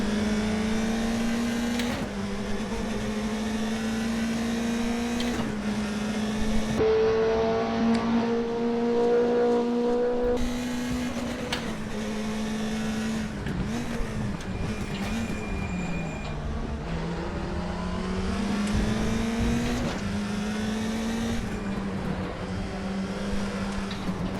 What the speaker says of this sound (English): I am driving a BMW E90 TC2